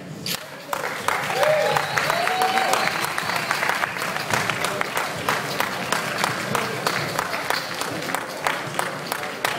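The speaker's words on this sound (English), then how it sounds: "Now I expect lots of noise and applause while I shake." Audience clapping and cheering at a cocktail competition final in Puerto Rico, a dense, sustained round of applause filling the room while a bartender shakes a drink, steady and fairly loud throughout.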